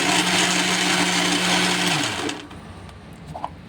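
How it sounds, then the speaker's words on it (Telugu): A mixer grinder runs at full speed, blending milk and ingredients for ice cream with a loud steady motor whine, then winds down and stops. A few light knocks follow in the quiet. "ఇంకా మిక్సీ ఆన్ చేసేద్దాం"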